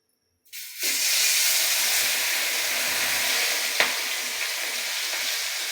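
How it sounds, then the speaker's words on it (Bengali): Fish pieces dropped one by one into hot oil set off a sudden loud sizzle that holds steady and bright, with a brief crackling pop near the end. "এবার এর মধ্যে আমরা তেলটা দিয়ে দেব। এবারে আমরা এক এক করে মাছগুলো দিয়ে দেব।"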